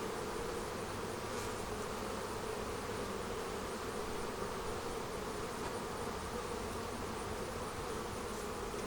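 Honeybees buzzing in an open beehive during an inspection, a dense steady drone close by that holds evenly throughout with no voices.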